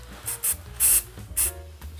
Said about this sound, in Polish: spray, które impregnują pastele